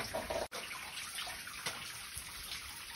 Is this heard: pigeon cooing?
no